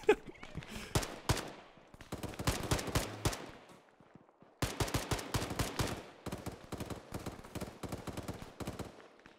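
Bursts of rifle gunfire in the military shooter Arma 3, rapid automatic volleys and single cracks sounding near and loud, repeating in clusters with short pauses between them and no talk.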